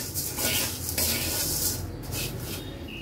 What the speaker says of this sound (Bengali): এখানে আরেক ব্যাচ ভেজে নিচ্ছি, একটু বেশি করে ভেজে রাখবো।